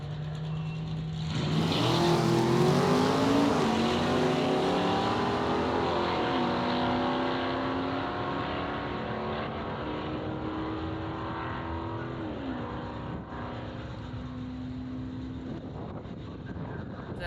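A 1986 Corvette C4, stripped of its fiberglass body and fitted with a 350 small-block V8, rumbles loudly nearby, revving up from idle and then holding a steady, throaty drone with some wind buffeting.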